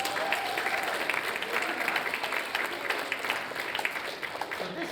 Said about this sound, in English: Give Jamie a big round of applause.